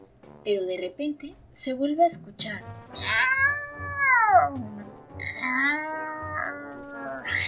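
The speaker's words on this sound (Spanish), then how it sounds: "¡Eso es un gato cazador!" A cat meows in a long, wavering, drawn-out cry, then a second shorter meow follows, both loud and close, with a narrator speaking over the start in Spanish.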